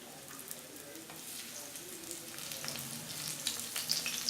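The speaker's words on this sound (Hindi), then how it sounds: "पैन में थोड़ा तेल डाल दिया है, और इस पनीर के टुकड़ों को हम इसमें डाल देंगे" Cornflour-coated paneer pieces frying in a little oil in a pan, a soft steady sizzle that grows a bit louder and crackles toward the end, heard close with no voices.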